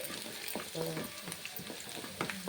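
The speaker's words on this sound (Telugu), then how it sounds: "ఉల్లిపాయ తొందరగా వేగిపోతుంది సాల్ట్ వేస్తే." Onion frying with salt in a pan makes a close, steady sizzle, broken by repeated scraping and knocking of a spoon as it is stirred.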